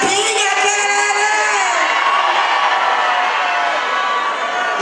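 Women in a crowd at a Christmas DJ event scream and cheer on the DJ's call, a dense, sustained roar of shrill whoops and yells from many voices.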